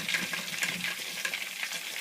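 Coated meatballs frying in cooking oil, a close, lively sizzle with quick pops and spatters, plus a soft stirring disturbance partway through.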